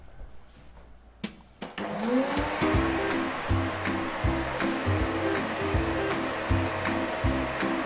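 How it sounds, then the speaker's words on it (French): A vacuum cleaner switches on after a couple of clicks and spools up to a loud, steady whine, used to winnow husks from crushed cocoa beans, with a rhythmic pulsing in the drone. "ça fait un peu de bruit parce que je mets l'aspirateur en route"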